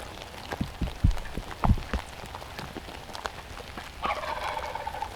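Rain pattering steadily on leaves and ground during a spring turkey hunt on Tennessee public land, with scattered heavier drops close by and a faint distant bird call near the end.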